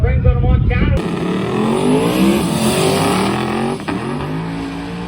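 Drag race cars launch side by side, engines roaring loud and close with rising revs and tires losing traction in one lane; a loud engine rumble comes first, then a sustained high-pitched whine.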